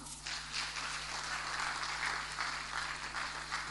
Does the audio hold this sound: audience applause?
yes